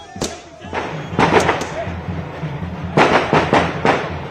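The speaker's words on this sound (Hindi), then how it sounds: "अनूप जी, जीत का जश्न, पटाखे, रंग, होली, दिवाली सब एक साथ मनाए जा रहे हैं बीजेपी दफ्तर के बाहर।" Firecrackers burst outside a BJP party office during an election victory celebration, several sharp pops spread across the scene amid a noisy crowd, with voices talking nearby.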